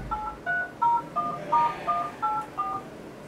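A rapid sequence of short electronic beeping tones from a smartphone sending data to another phone via the Tone Connect app, about eight distinct pips at steady intervals, clear and moderately loud with no talking.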